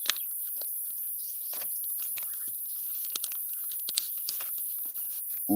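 A deck of tarot-style cards is shuffled by hand, giving close, crisp riffling and papery snaps in quick bursts against a quiet background, with no talking.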